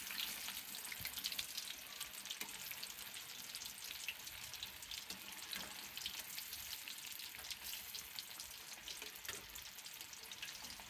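Marinated pomfret fish frying in oil, a constant bright crackling sizzle with tiny pops, faint and steady throughout with no voices.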